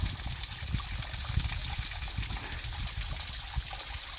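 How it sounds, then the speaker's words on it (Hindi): A small waterfall on a rocky hillside trail near the Narmada flows in a steady, full rush of splashing water, close and continuous without a break. "लो यहाँ पे एक छोटा सा झरना भी मिल गया।"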